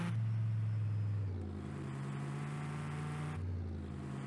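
A car engine in Farming Simulator 22 drones steadily while driving, its pitch shifting through corners, loud and continuous with no voices.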